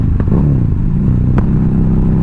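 A Harley-Davidson V-Rod Muscle engine with a check engine light on loses power and runs roughly, a loud, continuous low rumble with a couple of sharp clicks.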